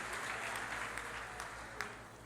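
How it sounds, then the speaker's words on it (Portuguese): A church congregation applauding, dense steady clapping from many hands filling the room at an even level throughout, with no voices standing out. "dando a Jesus uma linda salva de palmas"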